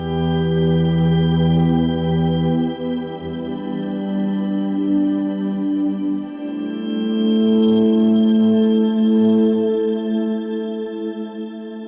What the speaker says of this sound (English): So say I want to add some octave up and I want to add some shimmery thing.